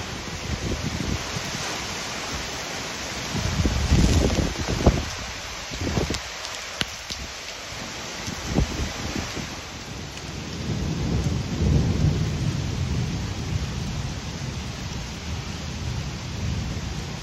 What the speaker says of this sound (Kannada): ಮಳೆ ಅಂತೂ ಬಿಟ್ಟು ಬಿಟ್ಟು ಬರ್ತಾನೇ ಇದೆ.